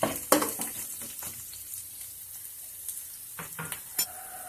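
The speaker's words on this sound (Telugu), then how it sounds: "వీటిని కూడా మనం ఆయిల్లో బాగా ఫ్రై చేసుకోవాలి." Curry leaves and tempering seasoning fry in hot oil, giving a steady close sizzle. Crisp spatters, spoon stirs and a few light metallic clinks against the pan break in, with the busiest bursts at the start and again near the end.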